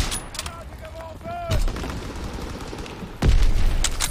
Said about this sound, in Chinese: 哦，这狙击枪的 质感好好